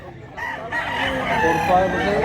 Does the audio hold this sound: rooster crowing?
yes